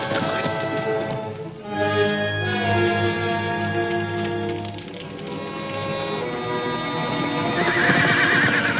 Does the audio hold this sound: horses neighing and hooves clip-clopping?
yes